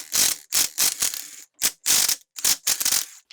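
A ratchet loosens crusty bolts on the rear cover of a 350Z differential in quick repeated bursts of close, loud rapid clicking, each stroke separated by short pauses.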